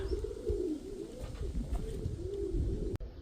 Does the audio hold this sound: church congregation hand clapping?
no